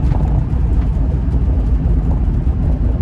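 Inside a Land Rover Discovery I with a 4-speed automatic, the engine revs out in a dense, loud, constant drone, with no speech.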